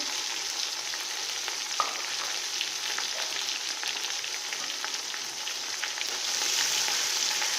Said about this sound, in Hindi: अब इनको अच्छी तरीके मिक्स कर लेंगे और थोड़ी देर फ्राई करेंगे।